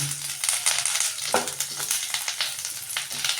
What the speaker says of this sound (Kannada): ಒಂದು ಸ್ಪೂನಷ್ಟು ಎಣ್ಣೆ ಹಾಕಿಬಿಟ್ಟು ನಾವು ಹಿಂಗೆ ಹುರ್ಕೊಳ್ಳೋಣ